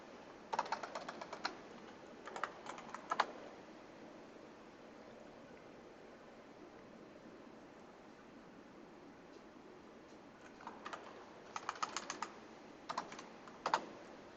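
Terminal commands are typed on a computer keyboard in short bursts of crisp key clicks near the start and end, with a quiet stretch between. The typing sits over a soft steady background hiss, and no one speaks.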